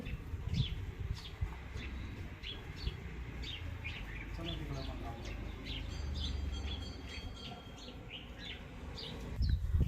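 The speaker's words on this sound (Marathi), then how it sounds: "किती सुंदर पक्ष्यांचा आवाज येत आहे किती चिमण्यांचा चिवचिवाट आहे" Scattered sparrow chirps and tweets in a garden, several small birds calling at irregular intervals over a low background rumble outdoors.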